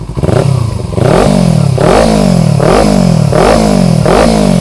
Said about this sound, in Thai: มาพร้อมกับท่อแต่งทรง อาคาโปวิกนะครับเดี๋ยวมาฟังเสียงท่อกัน